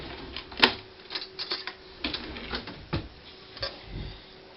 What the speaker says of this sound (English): biscuit cutter. I'll cut them all out.